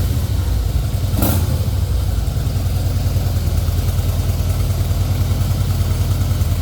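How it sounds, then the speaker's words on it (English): A 2008 Harley-Davidson Fat Boy with a 96 cubic inch engine runs steadily, its deep, loud, close-up rumble continuous with a brief sharper burst early on; no speech. "Yeah, sounds really good. real deep sound. It's a Harley,"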